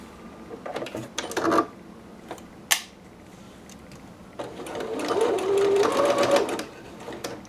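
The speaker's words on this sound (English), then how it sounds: "I'm just going to stitch what I can and what I do have pinned" A sewing machine stitches a McCall's 6701 dress seam in a close, rapid whirring run near the end, after earlier short mechanical clicks and fabric handling.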